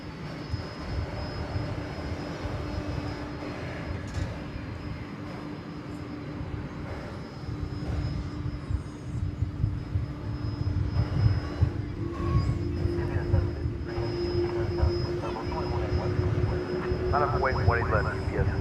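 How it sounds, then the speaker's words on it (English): Iberia heavy jet taking off from DFW runway 18 left, a distant engine roar that swells steadily louder over the latter half, heard from afar with a continuous background rumble. "clear for takeoff, runway 18 left, Iberia 6148 heavy"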